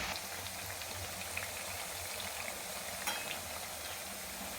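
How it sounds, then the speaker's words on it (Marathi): Chakli frying in hot oil over a medium flame, a soft continuous bubbling sizzle with faint crackles, steady and close, with no talking. "ह्या चकल्या छान खरपूस आपल्याला तळून घ्यायच्यात सोनेरी कलर"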